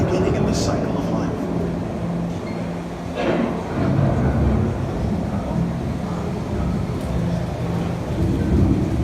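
An approaching thunderstorm with steady rain and low rolling thunder, a dense continuous roar that swells in places, with a voice speaking over it.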